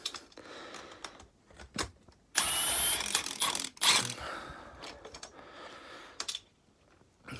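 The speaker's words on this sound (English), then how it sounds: "So now we'll take this nifty little 3/8 Milwaukee Impact." Milwaukee 3/8 impact wrench removing bolts from a 1985 Honda 250SX engine, heard as two bursts of loud, buzzing hammering about a second each, surrounded by quieter clicks and tool handling.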